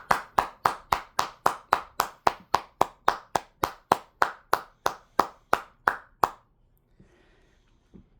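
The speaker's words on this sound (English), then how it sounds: "I'm gonna clap for my mother for doing that." Steady hand clapping, about twenty-two sharp claps at an even brisk pace, close and loud, stopping abruptly before a near-silent tail.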